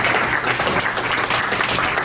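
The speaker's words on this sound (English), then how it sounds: "Can we just give a big round of applause for everybody?" Crowd applause for staff and volunteers at a seniors' gathering with the BC Premier, full and sustained clapping close by, filling the whole moment without pause.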